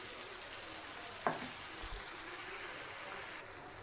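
A ground paste of onion, tomato, green chilli and garlic sizzles in butter, a steady close hiss with a brief splash as it lands in the pan, fairly quiet throughout.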